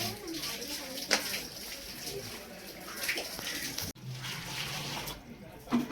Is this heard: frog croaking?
no